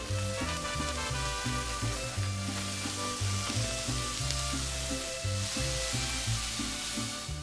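Frozen riced cauliflower hits a hot pan and sizzles loudly and steadily, a bright frying hiss that continues throughout with no talking.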